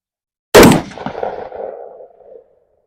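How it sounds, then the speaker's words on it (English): A single rifle shot fires PMC X-TAC M855 ammunition: a sharp, loud crack followed by a rolling echo that fades over about two seconds. "next shot time we're going to do 2 5-shot groups of the PMC X-TAC"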